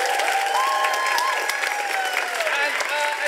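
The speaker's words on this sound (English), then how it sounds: "if we can give all the cast and the crew a massive round of applause" A theatre audience claps for the cast and crew at the final performance of an Aladdin pantomime, a dense, loud burst of many hands that keeps going with faint voices and whoops mixed in.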